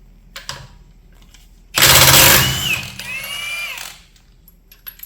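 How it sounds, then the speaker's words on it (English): A floor jack pumps and ratchets as it lifts a 2015–2018 Porsche Cayenne Diesel, a loud burst of clicking mechanical strokes close by, then a quieter stretch of metallic creaking before it settles. "take your floor jack and position it over the jack puck, centered on the jack, and now you're safe to jack the vehicle"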